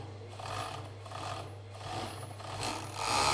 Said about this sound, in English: Pop it under the foot, start sewing, and then organize the end.